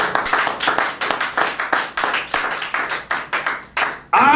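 A church congregation claps to acclaim the Lord, a steady, rhythmic run of loud, close handclaps that stops abruptly before a brief voice at the end.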